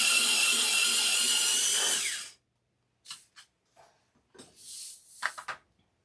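A small handheld sharpener grinds a colored pencil in a steady, loud whir lasting about two seconds, then stops, followed by a few soft taps and light handling sounds.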